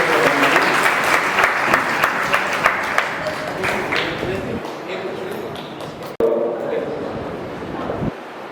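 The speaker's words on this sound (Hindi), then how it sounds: "तो एक बार बच्चों के लिए सभी के लिए जोरदार तालियां।" Loud applause from an audience at a closing ceremony of a children's camp, dense clapping that thins and fades near the end, with a brief cut and some crowd voices and shuffling underneath.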